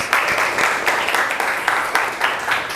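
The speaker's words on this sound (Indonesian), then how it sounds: "Boleh diberikan aplaus?" Steady applause from an audience after a group presentation, many hands clapping close and loud in a dense, even patter with small surges, with no talk over it.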